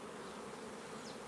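A honeybee colony in a nuc box buzzes steadily during a transfer to a new hive, a faint, continuous hum with no voices.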